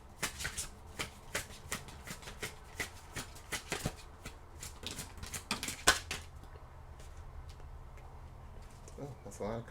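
Tarot cards being shuffled by hand, a series of quick riffling and tapping bursts repeating close up, fairly quiet with no talk over them.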